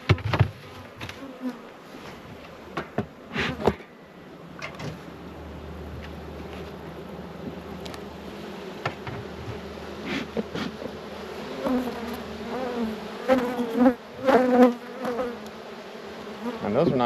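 Bees swarm and buzz steadily around an opened hive during a beekeeper's hive check, a close, continuous drone with individual insects whining past the microphone and occasional thumps of handling.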